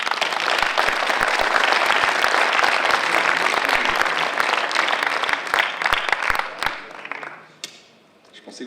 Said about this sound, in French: Je pensais que vous alliez applaudir plus longtemps pour permettre de voir.